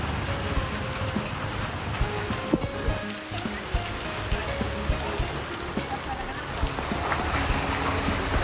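Steady rain falls in Kullu, a dense, continuous hiss of drops striking surfaces that stays loud and close without a break.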